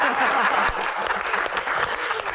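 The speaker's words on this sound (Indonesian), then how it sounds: "tepuk tangan untuk Seno" A TV studio audience claps in a dense, steady burst of applause that stays loud throughout.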